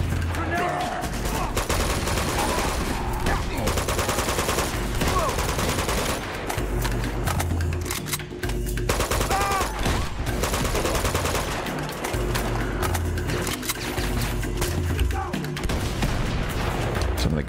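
Sustained machine-gun bursts and heavy rifle fire in Uncharted 2: Among Thieves crackle loud and continuous through a firefight, with booms and explosions mixed in, while characters shout over the shooting.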